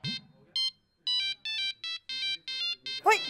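A phone's electronic ringtone sounds in short repeated bursts of bright tones, clear and close, with a brief voice-like sound at the start and end.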